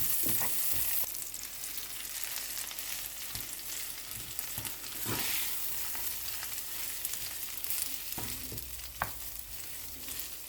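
Rice stir-fried with garlic and chili in a pan, a continuous soft sizzle with scattered scraping and stirring clacks of a utensil against the pan, close and steady with no talk.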